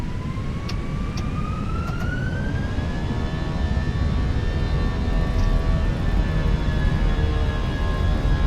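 Airbus jet engines spool up in a flight simulator while lined up on the runway, a rising tonal whine climbing in pitch over a steady low rumble, then holding at a sustained pitch.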